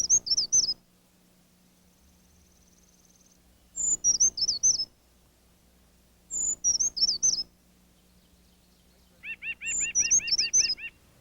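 White-breasted nuthatch and other backyard birds in a winter-into-spring yard, giving four separate bursts of sharp, chirping calls, the last joined by a quick run of repeated nasal notes, with quiet pauses between bursts.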